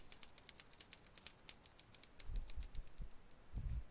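Typing in the Jenny LeClue Detectivu video game, a quick irregular run of crisp typewriter-like key clicks, fairly faint, joined near the end by a few deeper thuds.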